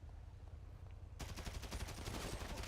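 Video game gunfire in GTA 5: after a quiet stretch, a sudden dense burst of rapid automatic shots erupts and continues loudly to the end, with no speech.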